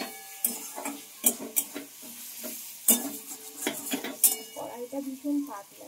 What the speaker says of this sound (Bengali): হলুদ লবণগুলো ভালো করে এইভাবে মিশিয়ে নিচ্ছি